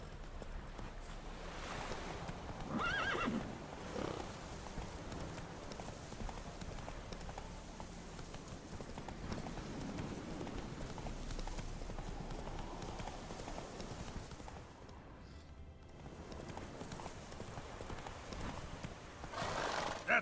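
Hooves of the horse Roach clip-clop steadily in The Witcher 3, with an occasional neigh, over ambient game sound that briefly dips near the end.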